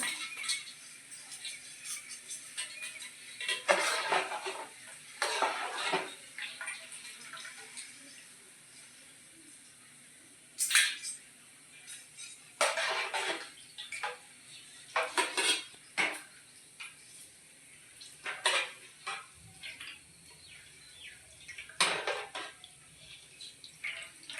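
Fried karapusa, crisp murukku-style gram-flour snacks, lifted out of the hot pan with a metal utensil, giving intermittent clinks and scrapes against the cookware between quiet stretches, close by, with no talking.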